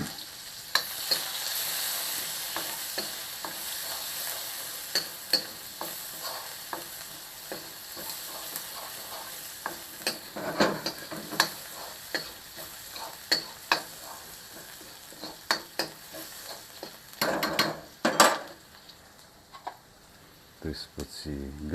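Onions fry in oil with a soft, continuous sizzle, punctuated by sharp clicks and scrapes of stirring that grow busier toward the end; a voice speaks quietly over it.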